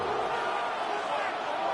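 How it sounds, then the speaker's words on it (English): Stadium crowd in a football video game roars as a steady, dense wash of cheering, with background voices in the mix. "This crowd doing all they can."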